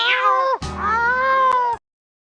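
Cats meowing, two drawn-out meows in close succession, loud and near with bright harmonic tones, the second longer and steadier before cutting off into silence.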